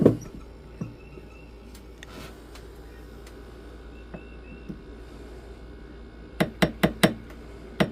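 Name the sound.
tapping with ball peen hammer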